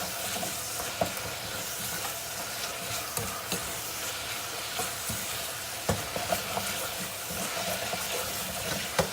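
Bishmele sizzles steadily in a hot pan while being stirred, a continuous close frying crackle broken by occasional sharp scrapes and clicks of the spoon against the pan.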